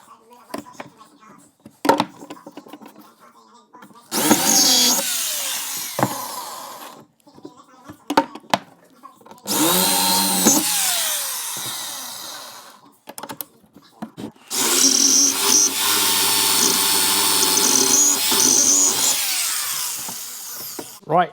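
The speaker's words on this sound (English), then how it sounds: "we've drilled every pop rivet out" A power drill bores out pop rivets from a panel on a classic V8 Range Rover, sounding in three loud whining bursts of a few seconds each, separated by quieter handling clatter and brief talk.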